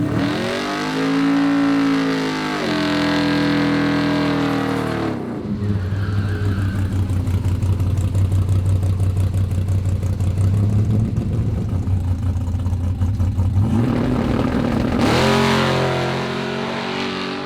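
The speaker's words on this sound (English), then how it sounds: "a big ass wheelie when we leave the starting line" A drag race car at a Sick On The Green event, loud engine revving up, then a long roaring run for several seconds and a final rev, heard alone and close.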